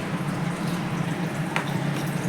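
Hot water pours into roasted semolina in a pan while rava kesari is being made, giving a steady low bubbling, sizzling rush with faint drips and one brief splashy spike, close and continuous.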